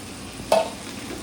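Tomatoes added to spiced masala for a quail fry hiss and sizzle in a hot pan. A brief, near sizzle with one quick clink of the stirring spoon, and no talk.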